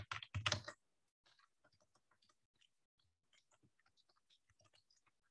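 Typing on a computer keyboard while entering a name in CAD software: a brief loud burst of clatter, then a string of light, evenly spaced key clicks close by in an otherwise quiet room.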